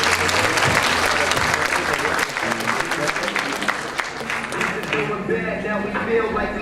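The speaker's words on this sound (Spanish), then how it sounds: "un fuerte aplauso para el representante" A large crowd applauds loudly and steadily, the clapping thinning slightly toward the end.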